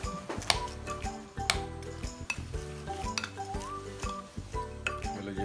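A spoon clinks and scrapes against a bowl while lemon juice is mixed into chicken, repeated metallic taps and stirring in an irregular rhythm with a faint background tone.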